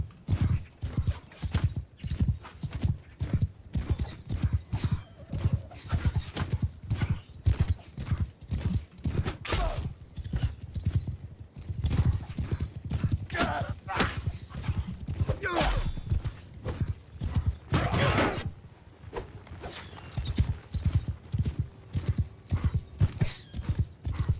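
Horse archers gallop in the video game YiGu Three Kingdoms, a dense, continuous drumming of many hoofbeats with occasional louder thuds and a faint whinny, heard up close without talk.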